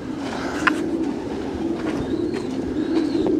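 Soft cooing and low murmuring from many racing pigeons housed at a Belgian pigeon center, a steady indoor hum of birds with occasional faint calls and no talking.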